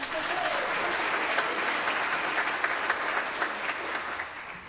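A church congregation at a streamed Mass breaks into warm, sustained applause from many hands, steady and fairly close, with a speaking voice faintly underneath.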